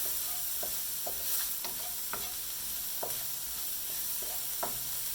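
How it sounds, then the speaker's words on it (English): Salted onions fry in a pan with a steady, close sizzle, broken by scattered scraping clicks as a utensil stirs them. "Give it a bit of a stir."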